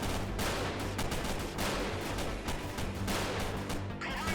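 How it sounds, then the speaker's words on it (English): An airstrike in the video game Freeman Guerrilla Warfare pounds continuously, a dense, loud barrage of overlapping blasts and crackling impacts with no pause for over four seconds. "Let's use an airstrike and see."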